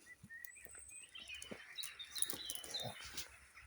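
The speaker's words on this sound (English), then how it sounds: "We still have a copious amount of birds." Evening birdsong outdoors on a farm, with faint chirps and tweets scattered over quiet background rustling and occasional soft knocks.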